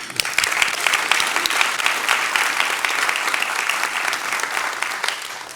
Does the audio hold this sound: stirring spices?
no